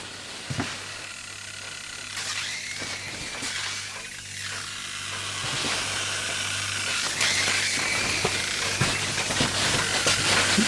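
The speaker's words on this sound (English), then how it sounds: "Very definitely jetting steam out now." A large model steam engine aeolipile jets hissing steam, a steady broadband hiss that slowly grows louder over a low mechanical hum, close and unaccompanied by speech.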